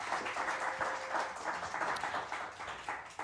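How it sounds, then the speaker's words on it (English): A small in-studio audience at a jazz quartet concert claps for the pianist, soft and somewhat distant, the applause steady over a few seconds. "Give a round of applause for Mr. Damian Garcia on the piano"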